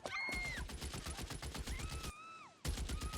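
Rapid automatic gunfire in L.A. Noire, including a Browning automatic rifle, in long fast bursts with a short break before another burst, accompanied by rising and falling siren-like tones.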